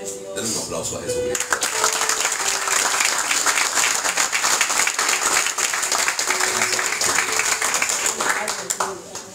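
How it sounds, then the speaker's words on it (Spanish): A church congregation at a deliverance conference in the Dominican Republic bursts into loud, sustained applause that fills the room, with voices mixed into the clapping. "Den un aplauso a Jesús."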